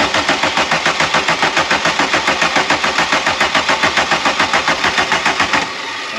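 A Volkswagen Caddy diesel engine from a scrapyard being cranked over by its starter: a loud, close, fast rhythmic chugging that runs steadily for several seconds, then cuts off abruptly into quiet.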